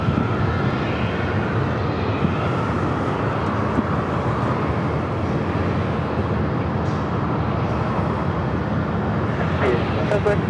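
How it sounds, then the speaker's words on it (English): A Delta 767-400ER jet airliner taxiing at LAX toward a north side takeoff, a constant loud broadband engine roar filling the whole stretch, with a voice talking over it. "Looks like we have a Delta 767-400ER heading over here for north side takeoff"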